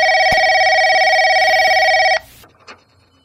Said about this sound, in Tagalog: Ay, tumutunog ang telepono.